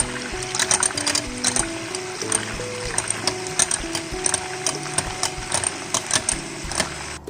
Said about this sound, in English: mixing it little bit with the beater,